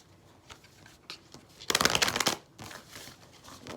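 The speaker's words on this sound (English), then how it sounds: "I have to shuffle my cards." Tarot cards being shuffled by hand, a dense burst of riffling and flicking that swells for under a second and then falls back to softer intermittent card handling, close up with no talking.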